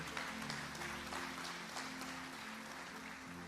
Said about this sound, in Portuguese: Você pode dar um aplauso ao Senhor Jesus Cristo